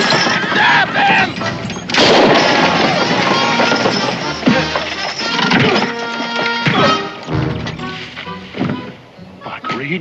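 Gunfire rings out in a frontier-era TV western, with loud sharp shots among dramatic music and voices, the bangs standing out at irregular moments.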